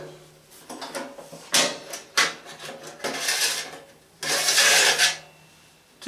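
A metal grease tray slides into a tabletop grill, giving several bursts of scraping and rattling clatter with short sharp knocks between them, close and fairly loud, with no voices.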